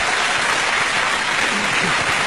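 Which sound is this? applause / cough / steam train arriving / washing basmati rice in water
applause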